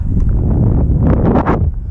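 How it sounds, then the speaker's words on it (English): Strong wind roars across the microphone in a city park on a hilltop near big water tanks, a loud continuous buffeting rumble with gusty surges and no talk. "It's really windy here, sorry."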